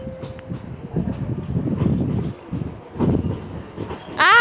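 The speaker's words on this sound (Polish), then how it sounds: "Flirt ER, ER160, który zmienia tor." A PESA Flirt ER160 electric multiple unit switching tracks at Warszawa Wschodnia station, with rumbling wheels and clatter over points rising and falling, then a sharp metallic squeal near the end.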